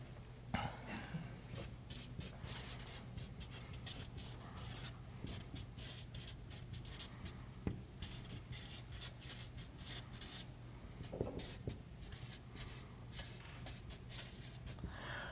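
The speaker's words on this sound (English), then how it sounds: "I'm writing it down." Pen writing by hand on a board during a presentation session, a continuous run of quick scratchy strokes with short pauses, faint and close, with no talk over it.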